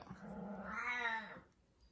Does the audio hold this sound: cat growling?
yes